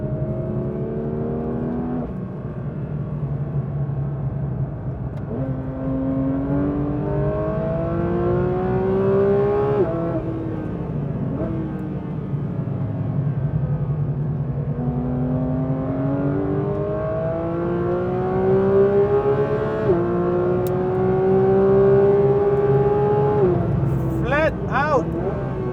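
A Porsche 911 GT3's engine revs hard through corners, its note climbing repeatedly in pitch as it pulls through the gears, then dropping before surging again, loud and continuous throughout.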